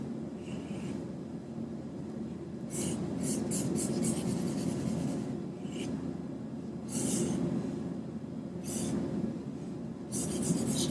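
A Sharpie marker drawing on paper, filling in dark negative spaces, with repeated steady scratchy strokes heard close up and fairly loud, the rubbing coming in bursts with short pauses between them.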